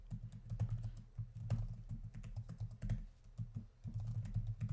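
Quick, steady keystrokes on a computer keyboard while entering switch configuration commands, closely miked and continuous for several seconds with no speech.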